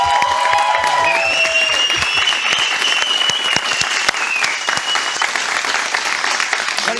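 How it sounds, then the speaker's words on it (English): A crowd applauds continuously, dense clapping with a few whoops and cheers rising over it. "Can we get a round of applause for Carrie and Barb?"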